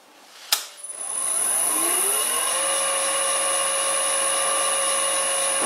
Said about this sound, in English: it would be nice to know how quickly this lathe is running at 50 Hz